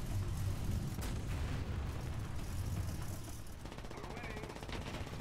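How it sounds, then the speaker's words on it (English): Video game gunfire from a tank battle with smoke shells, sounding as a dense, continuous rumble of shots and blasts that runs throughout, loud and steady, with a voice speaking over it. "Okay, from where is he shooting?"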